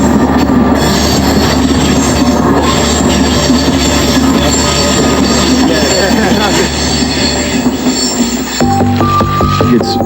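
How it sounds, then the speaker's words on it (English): A train passes close by on the line near a residential street in Newcastle, its wheels screeching loudly and continuously over a rumbling roll for about ten seconds before the squeal thins out near the end. "once a train's passed, the screeching's so loud"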